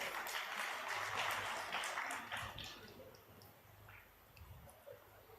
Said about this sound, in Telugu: సంతోషంతో చప్పట్లు కూడా దేవుని మహిమపరచండి.